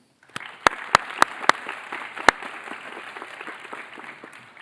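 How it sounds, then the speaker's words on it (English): An audience at a Fordson High School Memorial Day ceremony applauds a choir, opening with a few sharp, distinct claps that settle into steady, moderate clapping which fades slightly toward the end. "One more round of applause for the amazing Fordson Choir, please."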